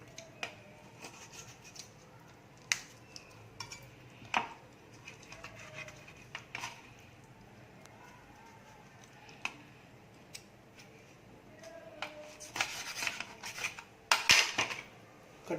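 A knife cutting through raw chicken wings at the joint for chicken lollipop, soft scattered scrapes and taps on a board with a louder cluster of cuts near the end, faint and close.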